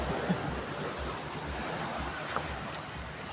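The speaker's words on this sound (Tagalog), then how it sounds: "Maraming laki ng dagat ngayon." Wind and rough open-sea waves wash steadily around a small boat, a broad constant roar with low rumbling swells and gusts buffeting the microphone, no voices.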